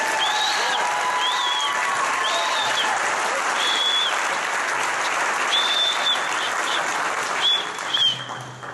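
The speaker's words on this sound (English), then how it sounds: "Can we get a round of applause for Jay Wright?" A hall of fame induction crowd gives a sustained round of applause, steady clapping filling the room with a few whoops and whistles rising over it.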